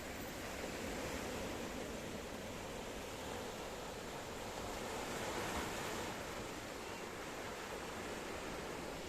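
Sea waves washing steadily along the shoreline at Kato Paphos in Cyprus, a continuous broad surf wash with gentle swells, heard alone with some wind rumble against the microphone.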